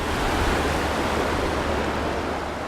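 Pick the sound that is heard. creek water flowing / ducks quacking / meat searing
creek water flowing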